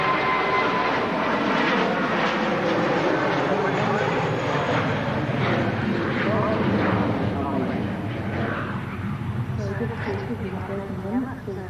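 An Emirates Airbus A380 comes in to land, a loud sustained broadband jet roar that holds steady and slowly eases, with voices talking underneath.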